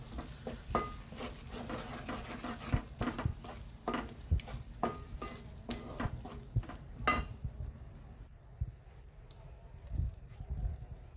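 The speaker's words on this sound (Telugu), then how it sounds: "అది ఆ పేస్ట్ వేసుకొని కలుపుతూ ఉండాలి" A spoon scrapes and stirs thick onion paste around a pan in repeated strokes, with a faint sizzle and occasional clinks underneath.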